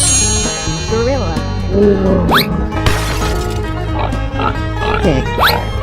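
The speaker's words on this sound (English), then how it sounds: "Pig." Cartoonish pig oinks and squeals over busy music and crashing effects in an animal-guessing escape-room game, a few short grunting bursts mixed into a loud, cluttered backdrop.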